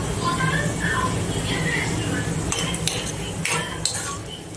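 Cashews sizzle gently in a pan as a spoon stirs them, giving clinking metal taps in the second half, while a person talks over the frying.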